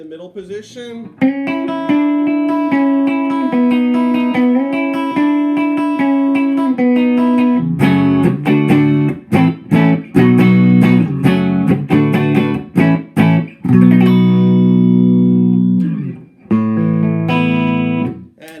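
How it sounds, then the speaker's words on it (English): Clean electric guitar on the middle pickup position through a Traynor YCV80 Custom valve 2x12 combo, sustained notes at first, then busier strummed chords and rhythmic stabs, loud and up close. "Let's hear the middle position."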